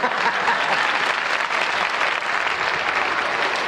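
Studio audience applause on a late-night talk show set, a dense, steady wash of clapping that holds at full strength throughout with no speech over it.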